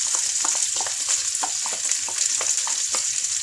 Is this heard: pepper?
yes